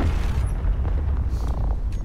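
A ship block blows apart in Space Engineers, a deep, rumbling boom rolling close and loud with creaking debris over about two seconds.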